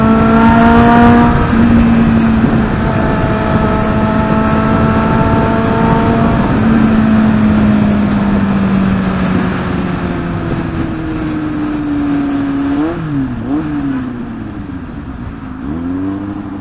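Kawasaki Z800 inline-four motorcycle accelerating hard from a standstill toward 100 km/h on a highway, a loud continuous engine drone with rising pitch through successive gear shifts, then brief dips and revs near the end.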